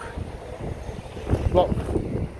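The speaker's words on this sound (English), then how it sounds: "I don't know how this is going to work in terms of the wind." Wind buffets a microphone outdoors, making a low, uneven rumble that swells and fades, with people talking over it.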